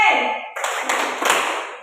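An Indonesian primary classroom of pupils performs a rhythmic clap chant, a brief spoken cue giving way to a steady run of sharp, close, overlapping hand claps mixed with chanting voices.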